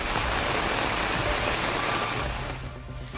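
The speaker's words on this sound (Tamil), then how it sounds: "கன்னியாகுமரி மாவட்டம் நாகர்கோவில் மற்றும் அதன் சுற்றுவட்டார பகுதிகளில் திடீரென மழை பெய்தது" Steady rain falls in Nagercoil, Kanyakumari district, a loud, dense and continuous downpour hissing on surfaces, easing slightly near the end, with no voices.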